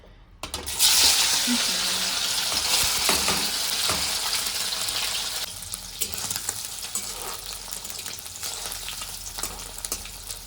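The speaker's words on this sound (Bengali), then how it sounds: "তারপরে এক এক করে আমি ফ্রাই করে নেবো সব কিছু, ভাজবো।" Eggs fry in a generous amount of oil in a pan for an egg and paneer curry. A loud, close sizzle starts abruptly, then settles into a softer crackle broken by occasional pops and stirring scrapes.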